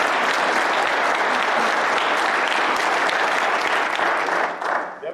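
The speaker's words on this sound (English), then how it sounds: "Jared Lowe, let's give him applause" A crowd claps steadily at a football awards ceremony, a dense, loud wash of applause that continues for several seconds before tapering slightly at the end.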